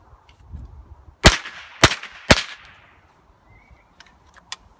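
Three sharp, loud gunshots from a Ruger 10/22 Takedown rifle in quick succession with a ringing tail, followed by a couple of fainter clicks.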